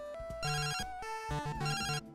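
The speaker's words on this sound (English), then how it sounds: "you're suddenly teleported to this location where eerily you'll hear a phone ring" A phone rings in a video game location reached by teleport, a bright electronic ringing tone repeating in quick pulses, loud and alone.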